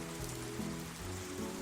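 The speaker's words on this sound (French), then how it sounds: "Écouter la pluie tomber doucement." Gentle rain falls with a soft, steady patter that stays faint and even throughout, with no voices.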